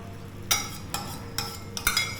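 Beaten egg poured slowly into a hot pan for an omelette, a steady sizzle underneath, punctuated by four sharp clinks of a utensil against the pan, close and alone without talk.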